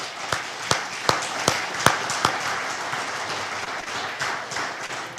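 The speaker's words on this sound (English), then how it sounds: "Let's give these three a round of applause right away." Applause from a summit audience at a legislative update, a steady wash of many hands clapping with several louder individual claps standing out near the start, and no talk over it.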